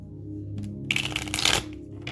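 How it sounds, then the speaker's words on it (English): Tarot cards being shuffled by hand, a quiet start giving way to a dense burst of crisp riffling and flapping in the middle, then trailing off into softer handling, close and alone. "Sorry you guys had to watch me shuffle forever"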